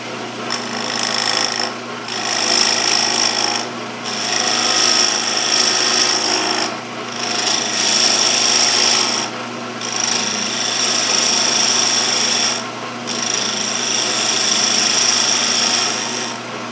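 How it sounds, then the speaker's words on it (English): A bowl gouge scrapes and cuts continuously against the outside of a segmented wooden potpourri box spinning on a lathe, a loud steady rasping with a high whine, broken by several brief pauses between passes. "one of the things I'm going to do first is take a bowl gouge in and clean off the"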